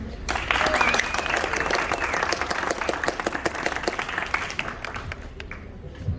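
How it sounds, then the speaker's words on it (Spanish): An audience at a book presentation claps loudly and steadily for several seconds, then the applause thins out toward the end. "al cual recibimos con un fuerte aplauso"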